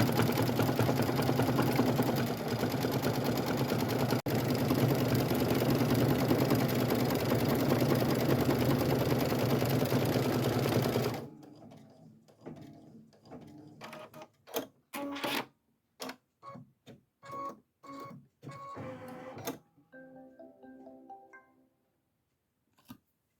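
An embroidery machine stitches a Christmas stocking with a loud, steady mechanical whir that stops abruptly midway. A scatter of clicks and handling knocks follows, then a brief electronic tone near the end.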